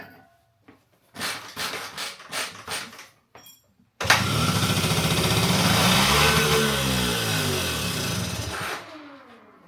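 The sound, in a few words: 1980 Honda Express II moped engine running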